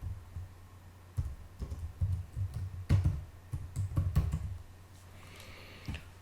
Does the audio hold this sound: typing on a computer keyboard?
yes